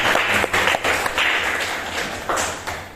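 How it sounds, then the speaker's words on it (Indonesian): A room of people claps continuously for about three seconds, a dense patter of hands with occasional louder bursts. "Beri tepuk tangan dulu teman-temannya."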